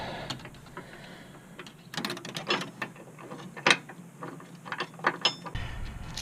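A ratchet clicking rapidly as a bolt is unthreaded during a trailer hitch install on a Buick Envision, close metallic ticking in uneven bursts with small clanks.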